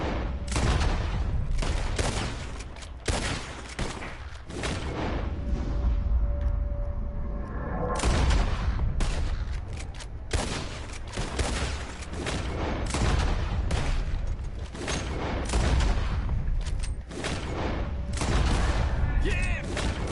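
Rapid volleys of gunfire in a shooting contest in the video game Red Dead Redemption 2, dense overlapping shots crackling almost continuously for about twenty seconds with a brief lull midway.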